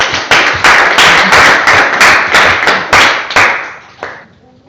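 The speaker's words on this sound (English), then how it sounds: "Let's give her a round of applause." A small audience at a Toastmasters club meeting gives a round of applause, close and loud, with sharp bursts of clapping pulsing in waves before trailing off near the end.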